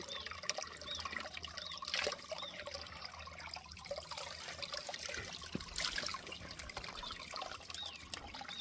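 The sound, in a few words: small stream of water trickling between rocks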